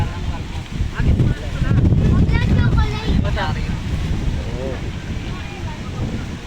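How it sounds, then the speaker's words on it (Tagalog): Strong gusts of wind buffet the microphone on a mountain during a picnic on a hot day, a heavy low rumble that swells and stays loud throughout, while voices talk and laugh beneath it. "lakas ng hangin kahit mainit"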